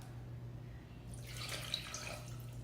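A short splash of water poured into a pot of sugar for tanghulu syrup, a brief soft pour starting partway through over a faint steady hum.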